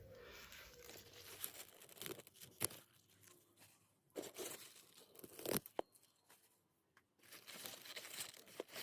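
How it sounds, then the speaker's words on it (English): Pak Choi being cut at the base and pulled off the plant, giving soft tearing, crinkling and crunching leaf sounds in scattered close bursts separated by quiet pauses. "I'm just gonna cut it at the bottom and pull the Pak Choi off."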